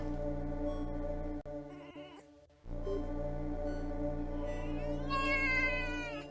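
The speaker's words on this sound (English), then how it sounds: "So that noise it makes at the very beginning is the end of it purring." A cat's vocal sounds from a recording played back on a livestream, with meows and bleat-like cries over a steady droning background. Sound drops briefly near the start, then the cat calls return more loudly toward the end.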